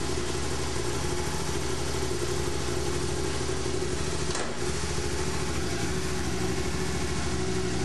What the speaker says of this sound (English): now time to start the bike